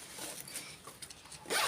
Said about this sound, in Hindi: एक ज़िप ये वाला भी इस तरह से बंद कर देंगे